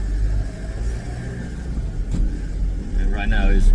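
Truck driving on a road in New Zealand, heading south from Auckland: a steady low engine and road rumble continues throughout, with a rising whine near the end and speech-like sound over it.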